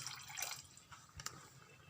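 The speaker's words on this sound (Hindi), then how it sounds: "अब हम इसमें थोड़ा सा पानी डालेंगे।" Water poured into a pan of methi malai paneer curry, a few faint, soft splashes and drips that come and go over a quiet background.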